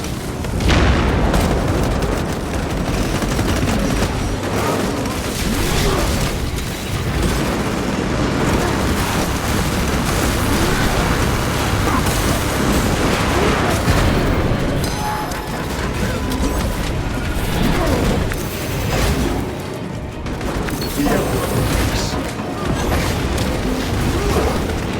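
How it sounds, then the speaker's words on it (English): Frag grenade blast in Warhammer 40,000: Space Marine 2 amid heavy combat, with booming explosions and gunfire rolling continuously and loud, layered with crashes and bursts and no pause. "Frag grenade deployed!"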